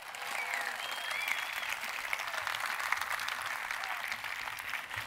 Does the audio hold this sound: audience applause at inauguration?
yes